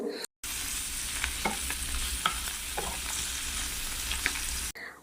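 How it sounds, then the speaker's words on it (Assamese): Fish pieces frying in a home kitchen pan, a constant close sizzle with a few soft clicks and scrapes as the pieces are turned over, no voices. "ইফালে মাছখিনি এপিঠি হৈ গ'ল মই ওলটাই দিছোঁ"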